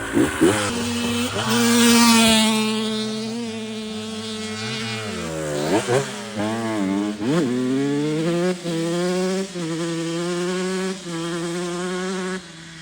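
A KTM SX125 two-stroke dirt bike engine runs close by with a buzzy, high-pitched whine. It revs up and down repeatedly, dipping and climbing between bursts of throttle.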